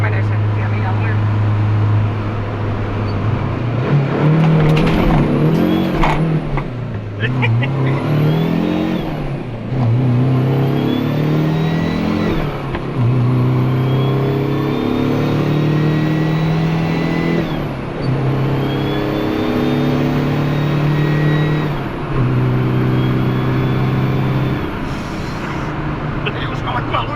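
Inside a moving Ford Transit van fitted with a Mercedes OM604 diesel engine, a loud steady drone rises and falls with acceleration, and a high whine sweeps up repeatedly, while someone talks over it.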